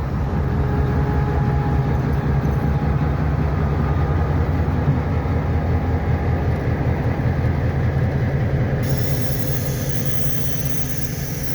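A railroad train in cold, snowy weather, a steady low rumble and droning engine hum with rhythmic rolling clatter that continues evenly for the whole stretch, fairly loud and close.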